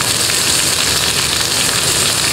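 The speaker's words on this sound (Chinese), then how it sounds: "冷锅冷油啊，直接放入所有的这个料去爆" Spices hiss and sizzle loudly in plenty of oil in a wok, a steady, dense frying crackle close to the pan with no pauses.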